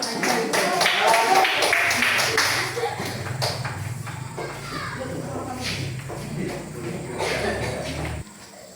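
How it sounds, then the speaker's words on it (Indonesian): Classroom applause after a group presentation, a short burst of clapping from students mixed with chatter that fades into quieter room noise and murmuring voices. "Tepuk tangan sekali lagi untuk kita semua"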